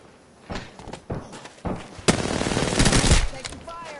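Gunfire in a PS4 shooter video game: a few single shots, then a loud sustained burst of rapid automatic fire, close and dominant before it tails off.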